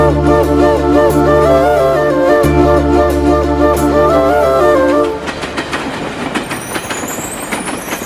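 A moving train rolls close by with a steady droning hum, then shifts into a rougher rattling clatter of wheels and cars that carries on to the end.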